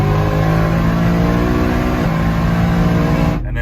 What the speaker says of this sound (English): If I floor it, it's gonna auto shift.